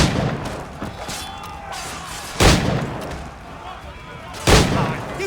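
Two sharp, loud gunshots ring out about two seconds apart in an Assassin's Creed Black Flag game scene, with game voices and ambient noise in between.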